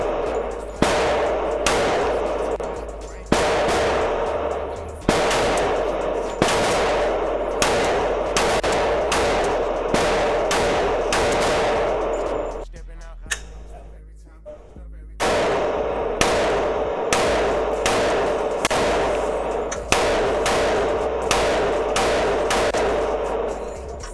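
Gunshots at a shooting range ring out loud and close, sharp cracks at irregular intervals over a steady background, with a short lull before the shooting resumes; voices are faintly present.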